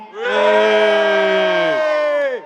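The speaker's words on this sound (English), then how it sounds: "Cheer for Colby." An audience at a UFC fan Q&A cheers and shouts loudly for a fighter, forming one sustained, close roar of massed voices that swells and then falls away after about two seconds.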